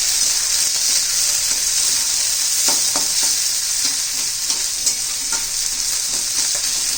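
Onions and green peas sauté in hot oil for a dry potato and pea dish, producing a loud, steady hiss with scattered scraping stirs close by.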